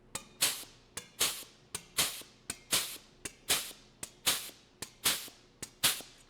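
A Harbor Freight crimper stepping a lip into sheet metal gives a series of sharp metallic snaps, about a dozen crisp clicks in a loose, regular rhythm, close and clear with no talking.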